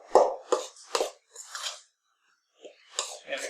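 Buttermilk biscuit dough is worked by hand on a floured board in several soft, muffled squishing and thudding bursts, close and irregular, separated by a brief quiet gap.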